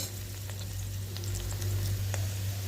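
Onions fry in a pan for brinji rice, a steady soft sizzle with occasional light stirring scrapes and clicks over a low hum, no voices.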